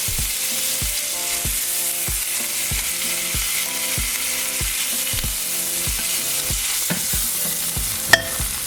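Meat sears in a pan for crock-pot barbacoa, a loud constant sizzle over a rhythmic ticking pulse, with a single sharp metallic clink near the end and no talking.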